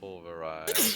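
A sharp burst near the end of a tabletop game session, loud and brief, following steady speech; people talk throughout.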